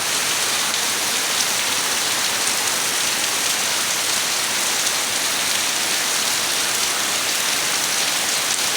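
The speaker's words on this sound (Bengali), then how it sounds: "দেখেন কি পরিমাণ বৃষ্টি হচ্ছে" Heavy rain pours down in a steady, dense roar of drops hitting surfaces, loud and unbroken throughout, with no voices.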